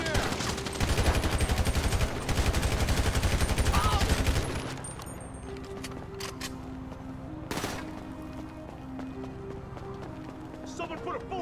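Gunfire in GTA V during a shootout at a construction site, a dense burst of rapid shots for about four seconds, then one sharp crack later, with voices talking throughout.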